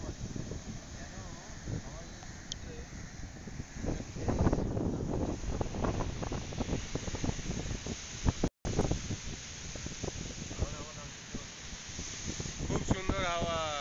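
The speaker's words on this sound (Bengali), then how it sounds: "কি সুন্দর হাওয়া, কি সুন্দর হাওয়া!" Sea breeze blows across Digha beach, a rushing wind buffeting the microphone throughout, while a person talks over it for most of the stretch.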